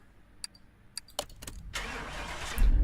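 A simulated 1972 De Tomaso Pantera engine running on a dyno in a PC car mechanic game: a few sharp clicks, then the engine catches and roars into a steady, dense rush that swells louder toward the end.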